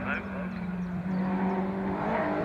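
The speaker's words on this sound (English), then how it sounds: "In 3rd place, just going through now, is number 17, David Miller" MG race cars pass on the track at Croft circuit, their engines droning steadily close by while a commentator talks over the whole stretch.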